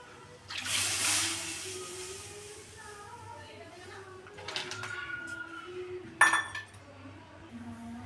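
A spoon stirs about 500 ml of milk in a pot for homemade fresh cream, making soft scraping and light metallic clinks, with a sharper clink of utensil against pot near the end.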